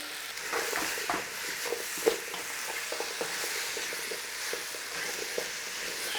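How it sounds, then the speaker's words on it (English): Chopped apples sizzle and fry in a pan as the base for a tomato and apple relish, with a continuous soft crackle and scattered clicks and scrapes of stirring throughout. "Start to loosen those apples up and cook them down a little bit."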